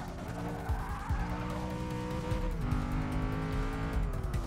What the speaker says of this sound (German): Und den kann man auch mal ein bisschen driften.